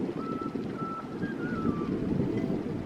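A faint wavering flute-like whistle sounds at night from a sailing boat at anchor off Spain, drifting in short tones over a steady bed of wind and water noise, with no talk.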